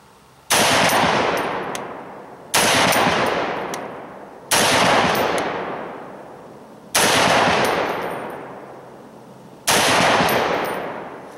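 Five loud, sharp rifle shots from a Springfield Armory SOCOM 16 in .308, fired alone at a slow, steady pace of about one every two seconds, each with a long ringing decay.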